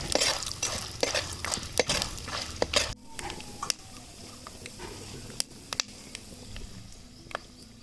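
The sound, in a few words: stirring lentils and seeds in a pan with a ladle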